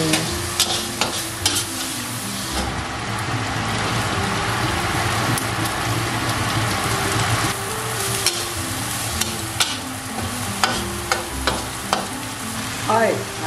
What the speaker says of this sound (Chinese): 现在放蒜米，再炒多另外一样菜。